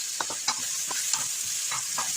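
Shiitake mushroom pieces and dried shrimps stir-fried in a hot oiled wok, giving a steady bright sizzle broken by several short scraping stirs of the spatula.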